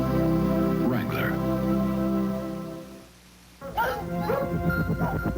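Dog barks and yips ring out in a Wrangler blue-jeans commercial, mixed under music with a brief dip near the middle before the barking returns.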